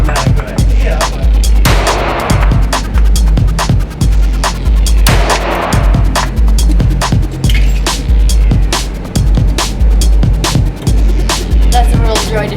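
Springfield 1911 pistol rounds fire at an outdoor range, a long series of loud, sharp reports spaced irregularly, some in quick pairs, with brief voices between shots.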